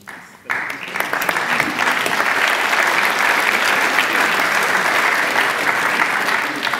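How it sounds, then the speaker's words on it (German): A lecture audience breaks into sustained applause at a talk by Professor Rainer Mausfeld, a dense, even clapping that starts abruptly and continues steadily throughout. "Applaus"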